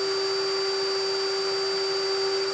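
A DeWalt DCK240C2 brushed drill driver runs in first gear at around 417 RPM, a loud, steady, unbroken motor whine with a fixed pitch and no talk.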